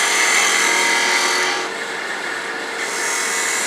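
A wood turning tool cuts a bead on a Christmas tree ornament spinning on a lathe, giving a loud, steady, close scraping hiss that eases briefly midway, with no voices.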